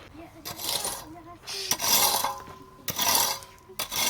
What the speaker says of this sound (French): je viens gratter mon sol pour enlever les cailloux, les gros cailloux dedans